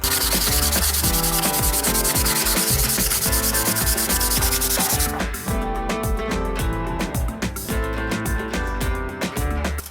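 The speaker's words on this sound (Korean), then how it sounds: "고운 사포 220방을 가지고 왔는데요" Fine 220-grit sandpaper rubs back and forth across torch-charred plywood in steady, continuous strokes, a dry scratchy texture that is partly masked by a loud, constant music bed.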